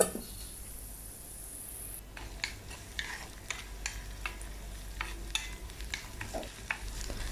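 Boiled potato pieces being sautéed and stirred in a pan for a potato curry served with rava dosa, the flame already switched off, giving a faint steady sizzle broken by repeated soft scraping and tapping strokes of the spoon, with no talking.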